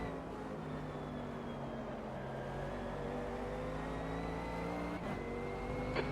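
A race car in the sim game Automobilista 2 holds a steady engine note with rising harmonic whine as it accelerates, joined by another car's tone and a brief click near the end, fairly faint overall.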